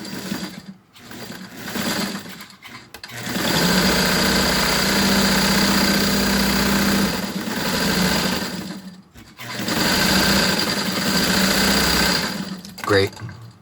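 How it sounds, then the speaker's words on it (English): A regular sewing machine stitches a folded fabric face mask with a running stitch. It runs in two steady, loud stretches of several seconds each, separated by short pauses. "running it over to my regular sewing machine, I'm going to fold it in half, and along the folded edge, I'm going to sew a gentle arc with a running stitch"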